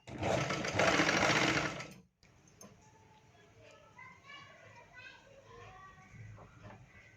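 An electric sewing machine stitches a plain blouse piece in a steady loud whirring burst for about two seconds, then stops; quiet talk and faint background voices follow.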